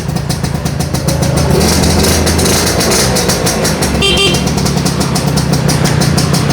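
A restored red motorcycle engine idles steadily and loudly at close range, with a continuous low throb and a brief higher tone near the middle.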